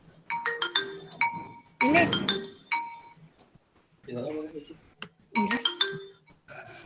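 A phone rings during an evening online gathering, its electronic ringtone sounding in repeated short melodic bursts between and under a man's speech, fairly close and clear.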